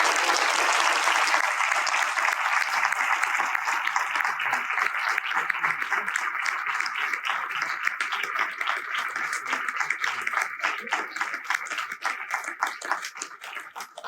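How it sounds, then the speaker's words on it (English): A commencement crowd gives a sustained round of applause for graduates' family and friends, dense steady clapping that fills the space for many seconds before gradually thinning and fading toward the end. "So let's have another round of applause for all the family and friends"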